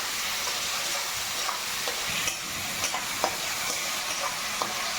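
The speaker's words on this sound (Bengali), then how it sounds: "চিংড়ি মাছটা প্রায় ভাজা হয়ে এসছে" Shrimp fry in a pan for potol chingri, giving a steady, close, hissing sizzle with occasional small pops and crackles throughout.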